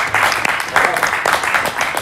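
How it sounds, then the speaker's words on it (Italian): Crowd applause at a mayor's award ceremony after a Coppa Italia finals event, with sustained clapping in bursts and a speaker's voice carrying over it. "è il momento di sentire e di fare un bel applauso"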